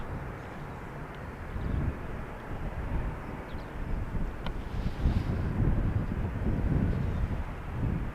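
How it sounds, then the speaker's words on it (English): A KLM Boeing 737-800 arriving at Amsterdam Schiphol, runway 18R, makes a low, steady jet rumble that swells gradually beneath constant wind buffeting on the microphone. "what we see over here is a Boeing 737-800 from KLM"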